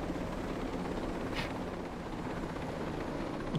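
Helicopter in the video game Ghost Recon Breakpoint, a steady faint rotor drone holding at an even level throughout, with no talking.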